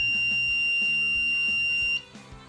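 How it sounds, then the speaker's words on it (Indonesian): A buzzer on a laser and LDR motion sensor circuit board sounds a steady high electronic tone for about two seconds and then cuts off, leaving faint background noise. "ketika sensor LDR tidak menerima cahaya maka buzzer akan berbunyi"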